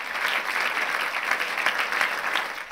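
Theatre audience applauding actor David M. Schulze in his role as Joachim Joe Leible, a steady wash of clapping sustained throughout without voices.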